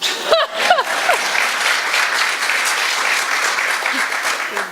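An audience bursts into sustained applause, loud and even, with a brief vocal whoop near the start.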